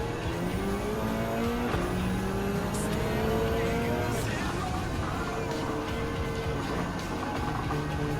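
Race car engines in Gran Turismo 7, climbing the hill at Spa-Francorchamps behind a 2017 Lexus RC F GT3. A steady high engine whine rises through the gears with shifts and faint tire noise, and a voice talks over it.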